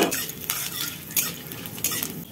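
Fenugreek, chana dal and dried chilli temper in hot oil, crackling and sizzling close up with sharp spitting pops and a spoon clinking against the pan.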